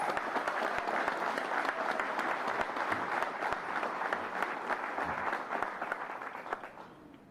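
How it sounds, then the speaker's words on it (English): An audience at an elementary school dedication ceremony applauds schoolchildren, a sustained round of many hands clapping that tapers off toward the end. "Please give them a round of applause."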